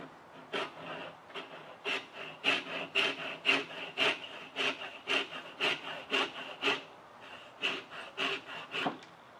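Hand saw cutting a bench-dog workpiece toward a marked line, with distinct rasping push-pull strokes in a regular rhythm, close by, with a brief pause partway through.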